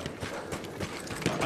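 Horse hooves gallop in Battlefield 1, a fast, loud, close clip-clop rhythm over game background noise.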